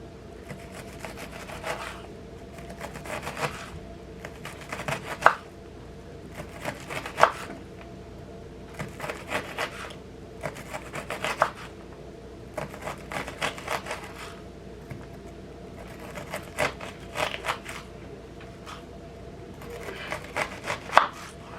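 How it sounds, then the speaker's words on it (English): A kitchen knife chops onion into small bits on a cutting board for fresh pico de gallo, with regular, crisp knocking strokes repeating roughly every second or two, close and moderately loud with no talking. "go ahead and cut this way. And when you do that, it's going to make small little bits of onion like this."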